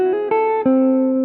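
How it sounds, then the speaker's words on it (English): A guitar plays a short Bach scale passage resembling A melodic minor, a few clean plucked notes stepping in pitch and each sustaining into the next, loud and alone. "This is followed by another scale passage that sounds very like the A melodic minor scale"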